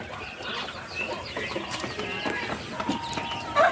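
Native chickens and black Australorps on a backyard farm, several birds clucking and calling in scattered bursts, close and fairly loud, with a louder squawk at the end.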